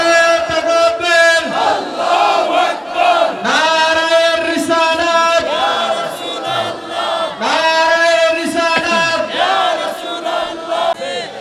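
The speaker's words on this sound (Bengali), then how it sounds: "স্লোগান লাগান ইনশাআল্লাহ" A large crowd chants a slogan in unison at an outdoor religious sermon gathering in Noakhali, loud, sustained rhythmic shouted phrases repeating in waves across the whole stretch with no break.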